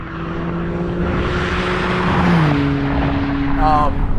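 A Maserati MC20 supercar engine drones steadily and rises in pitch as it accelerates, a smooth, moderately loud hum with rushing road noise.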